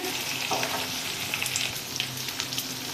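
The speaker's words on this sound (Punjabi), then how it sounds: "ਹੁਣ ਆਪਾਂ ਇਹਦੇ ਵਿੱਚ ਪਿਆਜ਼ ਪਾ ਦੇਵਾਂਗੇ" Chopped onions frying and sizzling in a garlic tempering for langar-style dal, a steady close hiss with occasional stirring scrapes and crackles, no talk.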